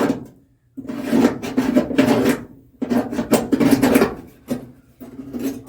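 Scraping and rubbing strokes of a scribe drawn along a car body panel during bodywork repair, several close, scratchy passes separated by short pauses.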